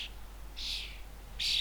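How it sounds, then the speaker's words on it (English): Young starlings in a garden give short, bright high-pitched calls while their parents feed them, two or three separate bursts at close range with no talking. "this was from earlier on when all the starlings arrived and were being fed by their parents"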